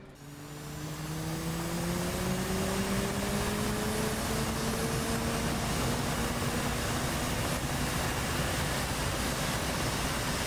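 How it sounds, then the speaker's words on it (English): Twin jet engines of an F/A-18C Hornet spool up at startup in the DCS flight simulator, a rising whine and rumbling roar that swells over the first two seconds and then holds loud and steady. "The Hornet's startup sounds are just so awesome. That spooling growl that it makes as the engines fire up"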